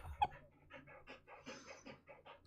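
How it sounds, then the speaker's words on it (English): Dogs panting rapidly and scuffling as they run and jump nearby, a steady breathy rhythm of short huffs with a sharper yelp-like burst near the start. "Oh my god, can you hear the dogs? They're running and jumping."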